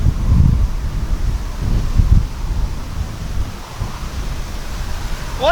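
Gusty wind blows across an RC flying field, buffeting the microphone with loud rushing bursts that ease and return, and faint rustling.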